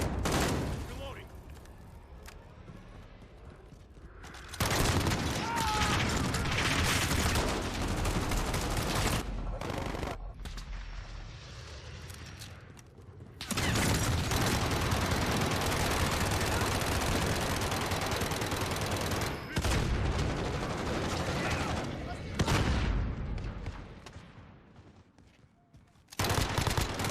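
Submachine gun fire in Call of Duty Modern Warfare, long loud automatic bursts separated by brief quieter gaps, close and dense, with a voice speaking in the quieter stretches.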